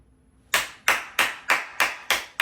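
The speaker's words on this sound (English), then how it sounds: "Let me give you a round of applause right there" One pair of hands claps six times in a steady, evenly spaced rhythm. The claps are close and crisp and follow a short near-silence, with no voices.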